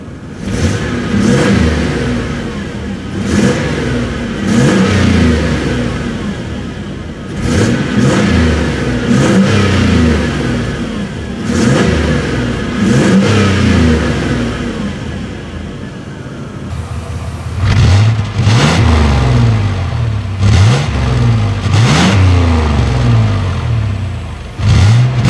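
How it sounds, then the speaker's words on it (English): GMC Jimmy engine revving loudly and close, repeated throttle blips rising and falling in pitch several times, with idle gaps between bursts and no talk. "And now for some Jimmy revs."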